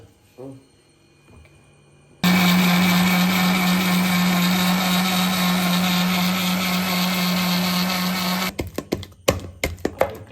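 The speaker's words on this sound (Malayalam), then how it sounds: "നീ മിക്സിയിലടിച്ചാ" A kitchen mixer grinder blending banana for aval milk starts abruptly and runs as a loud, steady, high whirring drone for about six seconds, then stops into a few clattering knocks.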